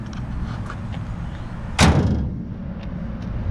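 The tailgate of a 1951 Chevrolet 3100 pickup swings shut with one solid, close metallic clunk midway through, set against a low steady background rumble.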